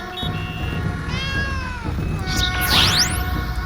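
A cat meows several times in drawn-out, wavering cries over a busy background with distant engine noise.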